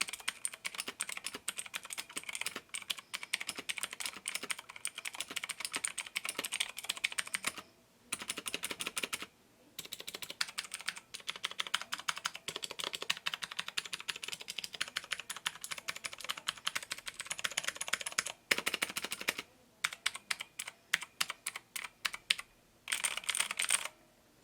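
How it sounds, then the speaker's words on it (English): Typing on an Ajazz AK33 mechanical keyboard with clicky, blue-like switches: rapid, crisp key clicks in steady bursts, close and clear, broken by a few short pauses. "And now to the typing test."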